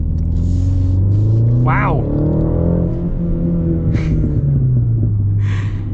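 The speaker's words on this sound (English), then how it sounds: "Okay, we'll get our acceleration here." A 2024 BMW M235i with a four-cylinder turbo engine pulls hard from inside the car, its engine and exhaust note climbing in pitch through repeated surges, with one brief voiced exclamation partway through.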